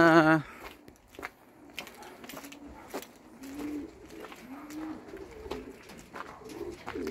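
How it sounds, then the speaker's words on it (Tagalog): Soft, low pigeon coos repeat in short rolling phrases close by, with faint rustling and scattered small taps in between. "Say naman yung kalapati natin"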